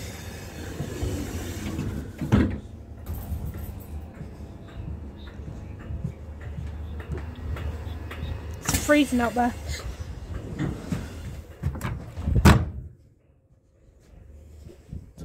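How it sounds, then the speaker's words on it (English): A door thuds shut aboard British Rail class 313 unit 313206 on a night run from Littlehampton to Bognor Regis, a single sharp bang near the end following softer rattles and clunks, with a person talking between. "And shut the door because it's warm."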